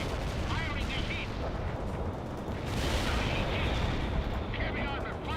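Heavy armor opening fire in the real-time strategy war game World in Conflict, a dense, continuous rumble of cannon and gunfire with booming blasts, with battlefield radio chatter mixed in.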